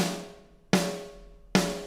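Snare drum from a software drum instrument, struck three times alone at an even pace: sharp cracking hits with bright rattling decay, each ringing out before the next.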